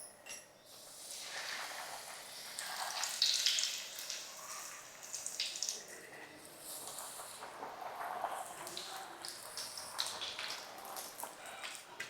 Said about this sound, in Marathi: अलगद हाताने वरती खालती करून चांगली अशी भाजून घ्यायची